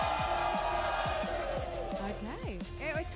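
A live audience section roars on cue, a dense, loud wall of overlapping shouts and cheers with individual voices rising and sweeping above the mass, sustained without a break for about three seconds.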